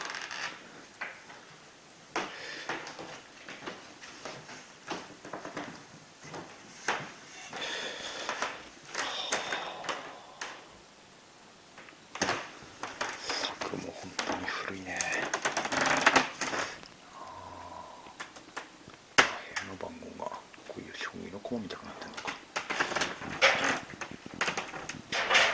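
Old wooden floorboards and stairs creak and knock underfoot in a 120-year-old Japanese inn, a former pleasure-quarter house dating from 1898 in Hachinohe, with repeated irregular creaks and taps from footsteps moving through the building.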